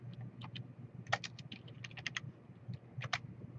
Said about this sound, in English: type in your text